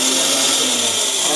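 A kitchen mixer grinder whirs loudly and steadily as it grinds ingredients for a home-cooked curry, a continuous high motor whine with no pauses or voices.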